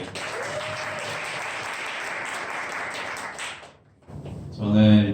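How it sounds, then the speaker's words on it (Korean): Sustained applause from a crowd fills most of the clip, fading out near the end before a voice begins speaking. "박수 한번 부탁드릴게요."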